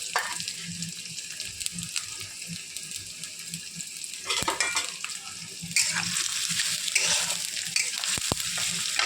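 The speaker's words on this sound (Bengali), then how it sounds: "পেঁয়াজগুলোকে গোল্ডেন ফ্রাই করে নেব।" Onions frying in hot oil with whole garam masala and chicken, a steady sizzle punctuated by repeated scraping stirs of a spoon in the pan, continuous and fairly close.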